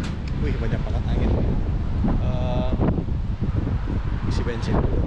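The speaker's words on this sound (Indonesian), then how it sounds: "banyak banget angin." Strong wind buffets the microphone at a roadside stop on a trip through America, a loud, steady low roar that runs the whole time, with voices talking under it.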